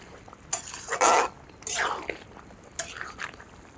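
A spoon scrapes and clinks in a pot, stirring roasted cumin powder into a katla fish curry cooked with radish, in three or four short, close strokes with quiet pauses between.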